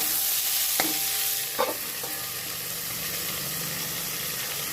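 Mixed vegetables with tomato, slit green chillies and peas fry on low to medium heat in a curry pan, giving a steady close sizzle broken by a couple of sharp stirring knocks.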